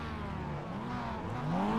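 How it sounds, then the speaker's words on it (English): Mazda MX5 race car engines rev on the grid at the start of a sim racing event at Long Beach. Several rising, buzzy engine tones climb in pitch together as the cars build revs, steady and fairly loud. "But the revs are rising here at Long Beach"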